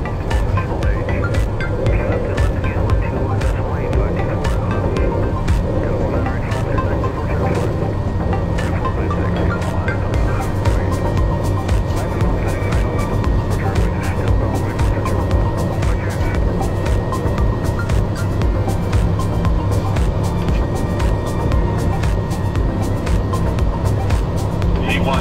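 A light airplane's engine roars steadily through a takeoff roll down runway 24, a loud, unbroken drone with constant rumble. Crew voices give callouts over it.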